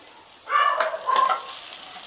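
Tempering spices hit hot oil in a pan for a black-eyed bean chaat, producing a short sizzling burst with a couple of bright, crackling flares that soon settle into a soft, steady hiss.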